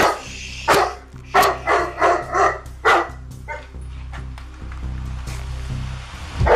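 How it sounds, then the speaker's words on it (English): An aggressive dog locked in a cage barks loudly and close by in a burst of several sharp barks. A low steady hum runs underneath, and a few fainter barks follow. "their attention turned to an aggressive dog locked in a cage"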